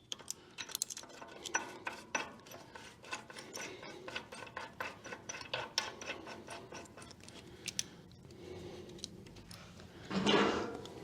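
Bolts being tightened through shims on a Babbitt bearing, a series of close metallic ratcheting clicks and scraping turns in quick bursts, ending with a louder rasping scrape.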